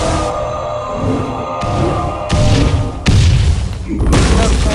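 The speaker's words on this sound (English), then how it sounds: "The arcane explosion." Arcane Explosion spell effect from the video game Hearthstone, a series of loud booming magical blasts and thuds with bright crackling layers over a continuous game soundtrack, the strongest hit landing near the end.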